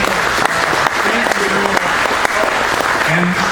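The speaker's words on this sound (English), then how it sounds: "Give Kevin a big round of applause." Loud, steady applause fills a room as a meeting audience claps for a local speaker, with faint voices mixed into the clapping.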